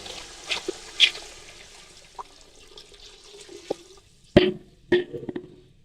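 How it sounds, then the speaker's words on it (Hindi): Water is poured into a cooking pot of softened tomatoes for chicken mandi. It comes as scattered splashes and gurgles, with two louder bursts near the end, in a quiet kitchen. "अब हम इसमें पानी शामिल करेंगे।"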